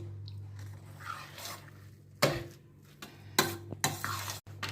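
A spoon stirs and mixes pongal in a pot, soft scraping and thick squishing with sharper clinks of metal against the pot, over a low steady hum.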